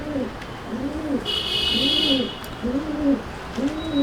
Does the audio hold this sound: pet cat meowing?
no